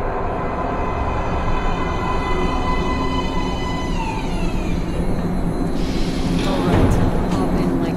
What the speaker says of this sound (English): Train coming in.